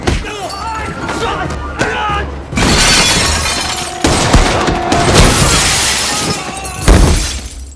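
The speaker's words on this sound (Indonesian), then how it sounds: "membuat Luke nekat melompat keluar jendela" A window shattering in a film as a man leaps out of it, a loud crashing burst of breaking glass amid a dense, noisy action scene.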